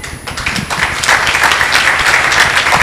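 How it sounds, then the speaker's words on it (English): Audience applause at a talk on being a role model, beginning with a few scattered claps that quickly thicken into steady, fairly loud clapping from a full room. "Let's give a hand of applause."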